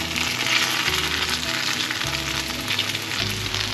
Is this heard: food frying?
yes